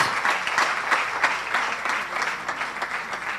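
Steady applause from an audience at a school science competition award ceremony, even and continuous at moderate volume with no voices over it.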